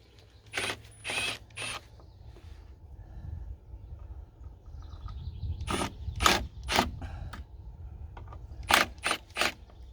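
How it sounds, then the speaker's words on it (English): Screws are backed out of a faucet mount with a screwdriver, producing short bursts of clicking ratchet-like turning noises in three separate groups, close and fairly loud over a low background hum. "So I'm gonna back out the screws a little bit."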